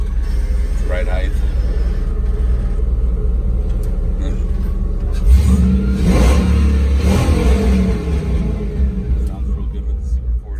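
A deep, rumbling 1963 Ford F100 truck engine through Super 40 mufflers idles loudly, then revs up midway with a throaty burble, while someone talks over it.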